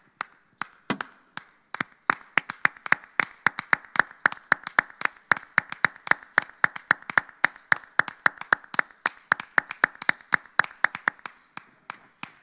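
A church congregation claps in a steady rhythmic beat, sharp and evenly spaced, building from scattered claps into a tight, continuous unison pattern.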